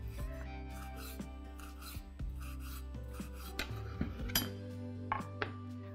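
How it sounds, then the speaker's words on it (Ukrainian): Fleshy tomato parts being finely chopped with a knife for a pepper salsa: a steady background hum under irregular close clicks and taps against the board, fairly quiet, with no voices. "Ми її міленько шинкуємо і додаємо до сальси"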